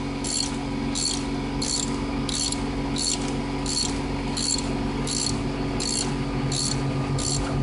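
Steady, even ratcheting clicks at about one per second from a tool driving a Time-Sert thread insert into a head bolt hole on a Toyota Camry engine, with a constant mechanical hum underneath and no speech.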